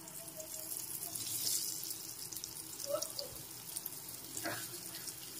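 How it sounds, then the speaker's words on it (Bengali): Pointed gourds (potol) fry in oil seasoned with turmeric and salt, giving a quiet, steady sizzling hiss with a couple of soft pops partway through. "প্রথমে পটলগুলো ভেজে নিতে হবে।"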